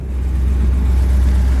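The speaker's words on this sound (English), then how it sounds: "Motor runs excellent." A 1959 Ford Galaxie convertible's engine runs steadily, a low, even rumble close by with a slight pulsing throb and no voices.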